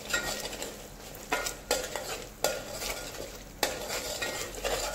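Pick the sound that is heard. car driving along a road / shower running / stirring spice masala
stirring spice masala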